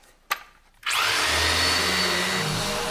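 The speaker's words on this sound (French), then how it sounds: "On passe de, je sais pas, son marteau-piqueur à l'aspirateur." A sharp click and brief rattling give way to a loud, steady whirring drone like a vacuum cleaner, a sound transition in a Breaking Bad episode that holds close and constant to the end.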